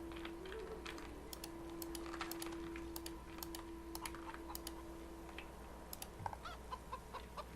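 Chickens cluck faintly at a chicken farm in the video game Divinity Original Sin 2, under frequent computer keyboard clicks and a steady electronic tone.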